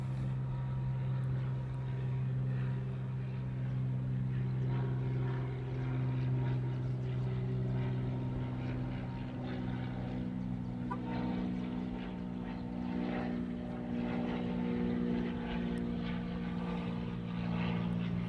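Aircraft departing Honolulu Airport, a steady distant engine roar and drone holding at an even level throughout, with no talking.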